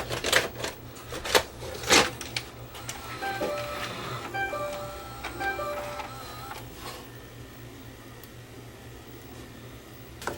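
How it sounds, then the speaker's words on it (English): Sony SLV555 VHS recorder, an early Sony VHS deck, threading a loaded tape: a run of mechanical clicks and whirring motor with intermittent ticking and faint tones, fairly close and alone, then quieting to a low hum. "Try throwing a tape in it, just see if it'll thread up."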